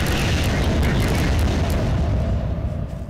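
A big explosion from a DOOM weapon mod in the Garry's Mod game, a loud rumbling blast that slowly fades over a few seconds with no talking.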